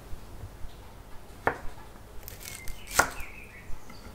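A knife cuts a peeled carrot on the diagonal, giving two crisp, separate chops spaced well apart over a quiet background.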